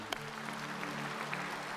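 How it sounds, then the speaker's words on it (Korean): A congregation in a church service at Sae Eden Church claps together. The applause is soft and distant, a steady wash of clapping with one sharper clap near the start. "박수 한번 해주세요"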